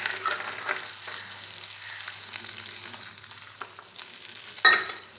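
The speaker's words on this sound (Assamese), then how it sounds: "মটৰখিনি অলপ এনেকৈ বাটাৰতে মটৰখিনি অলপ ভাজিম" Green peas frying in melted butter with a bay leaf in a pan, a quiet, steady close-up sizzle with faint stirring scrapes and a brief sharper clatter near the end.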